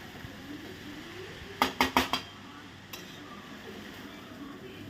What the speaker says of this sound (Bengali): স্প্রিং অনিয়ন দিয়ে দিচ্ছি দিয়ে আবার ভালো করে মিশিয়ে নাড়াচাড়া করে নেব